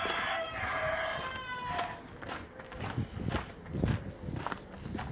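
Backyard chickens in April, with a rooster crowing early and hens clucking, mixed with shuffling and rustling noises nearby; the calls are moderately loud and broken up by scattered thumps.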